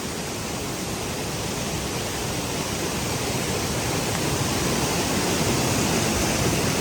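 A waterfall at Pale village roars as a dense, unbroken rush of falling water, loud and close, steady throughout with strong wind mixed in and no voices.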